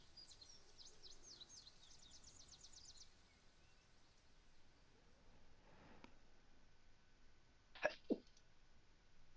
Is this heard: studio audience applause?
no